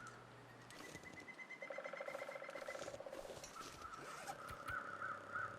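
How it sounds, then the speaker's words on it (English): Several repeated synthetic bird calls ring out in the video game The Long Dark, sustained tonal notes and short cawing cries over a faint steady background, fairly quiet and with no speech. "What the hell is that noise, though? That's supposed to be a bird?"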